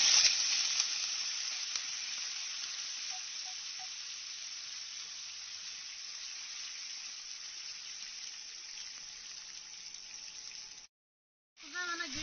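Meat sizzling loudly in hot oil in a pot while Uyghur sambusa filling is cooked, a steady dense hiss that fades slightly over time, stops briefly near the end, then resumes.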